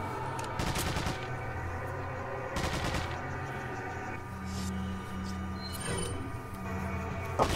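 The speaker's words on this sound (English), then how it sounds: "Leon's just gonna sit down there and fire at those Ganados for like the rest of eternity." Leon fires a gun at Ganados in Resident Evil 4, several sharp, loud shots spaced a second or two apart over a steady humming background drone.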